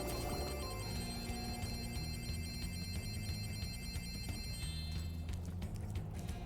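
A steady high electronic ringing from the Spyro 3 Reignited video game, a sustained shrill tone layered over busy game ambience and a low rumbling background, continuing evenly throughout.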